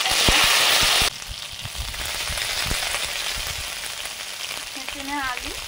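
Cumin paste hits hot oil in a pan with a loud initial hiss that drops after a second into a steady sizzle, broken by a few clinks and a brief squeak toward the end.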